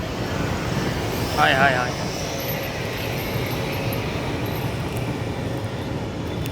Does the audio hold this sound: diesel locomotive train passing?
yes